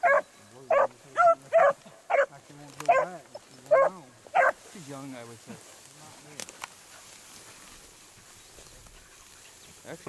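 A dog barks at a gun dog brace field trial, about eight sharp evenly spaced barks close by, then quieter outdoor ambience with faint distant sounds.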